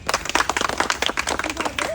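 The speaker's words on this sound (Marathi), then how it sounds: "तुमच्या स्वतःसाठी एकदा जोरदार टाळ्या वाजवा" A short burst of audience clapping at a stage event, quick, uneven claps from a modest crowd, moderately loud and close, lasting a couple of seconds.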